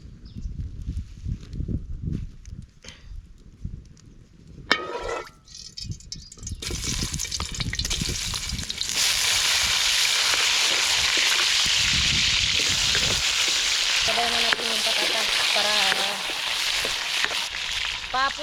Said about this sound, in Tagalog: ipiprito muna natin ng ating saging